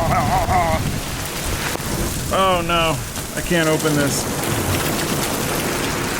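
Heavy rain pours down during a hurricane, a loud steady roar of water drumming on surfaces, with a person talking in bursts over the downpour.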